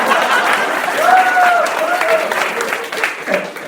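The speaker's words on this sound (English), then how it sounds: "I can't help but feel that last clap was a bit patronising." An audience at a stand-up comedy show in Aalborg claps steadily in a dense, crowded patter, with a voice faintly drawn out over the applause.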